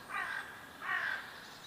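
Crows in a Hindi Panchatantra cartoon give two harsh, drawn-out caws in a row, clear and fairly close, with no talking.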